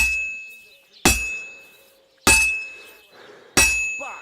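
A smith's hammer striking a sword on an anvil in Kingdom Come Deliverance 2, three sharp ringing metallic clangs at even intervals, each bright strike decaying slowly before the next.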